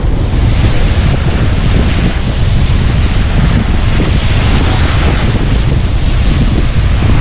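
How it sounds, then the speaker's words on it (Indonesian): Big waves of the Red Sea crash and roll continuously nearby, mixed with heavy wind buffeting on the microphone, with a dense, loud roar and no clear breaks. "Ombaknya gede banget pokoknya. Ombaknya gede banget guys."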